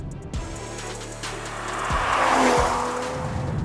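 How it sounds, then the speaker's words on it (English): A BMW M340i engine revs hard and climbs in pitch with a throaty exhaust note, shifting gears twice as it accelerates. "the exhaust gets a little bit louder"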